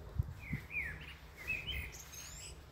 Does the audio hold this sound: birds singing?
yes